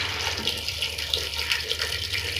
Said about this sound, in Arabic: هضيف عليه ميه، انا عندي ميه سخنه هنا